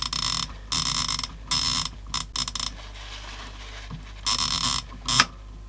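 Alarm-setting dial on a Copal Shahan RD-100 flip clock turned by hand, giving bursts of close, loud ratcheting clicks separated by pauses, with a faint steady hum between them.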